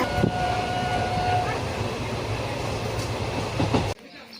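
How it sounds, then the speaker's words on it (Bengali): A Kolkata metro train arrives at the platform at Howrah metro station, rumbling steadily with faint clicks and a brief tonal whine, then the sound cuts off abruptly near the end. "আর ওই যে আমার ট্রেন চলে এসছে, ট্রেনে উঠবো এবার।"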